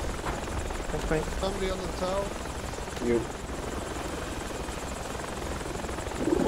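Helicopter in Battlefield 2 Project Reality on Bijar Canyons, its steady rotor thrum and engine whine running throughout while someone speaks briefly over it, swelling slightly near the end.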